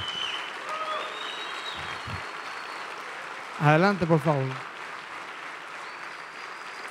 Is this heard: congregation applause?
yes